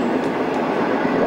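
Train rumbling past a film location shoot in Australia, a steady broad roar that fills the whole stretch at constant loudness with no breaks.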